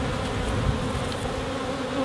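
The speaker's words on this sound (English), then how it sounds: "There's a lot of baby bees on this frame." A steady, dense drone of many honeybees buzzing up close on a hive frame with brood, continuous and even with no voices.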